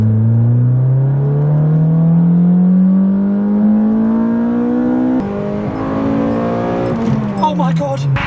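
A Toyota VVTL-i engine revs hard and loud, its pitch climbing steadily in one long sweep, with a shift-like break near the end before it pulls up again.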